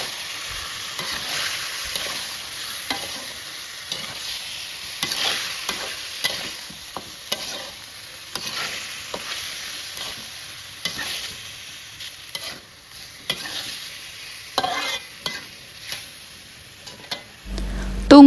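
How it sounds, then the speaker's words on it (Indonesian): Marinated chicken pieces frying with spices in a home kitchen pan, stirred repeatedly: steady close sizzle with spoon scrapes and clinks coming in irregular bursts, and no talk. "Lalu kita aduk supaya bumbunya tercampur sempurna."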